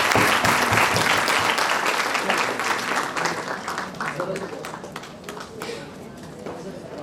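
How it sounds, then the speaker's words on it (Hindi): An audience claps loudly at a school poetry mushaira, a dense roar of applause that slowly thins and fades, with a voice speaking over it. "जोरदार तालियां।"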